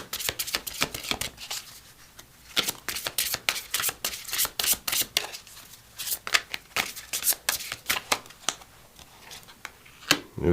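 Metatron oracle cards being shuffled by hand, heard up close as quick, crisp riffling bursts that repeat in an uneven rhythm with no voices.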